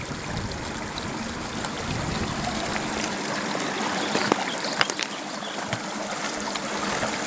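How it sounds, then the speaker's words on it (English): A small runoff creek flows over bedrock with a continuous close rushing and trickling wash, steady and unbroken, with no voices. "here's a runoff creek"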